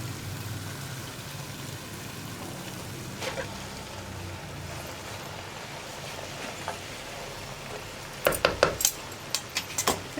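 Cooked, strained noodles are tossed with sauces in a pan for chicken Schezwan noodles, soft sizzling hiss throughout, then a cluster of sharp metallic scrapes and clinks of a utensil against the pan near the end.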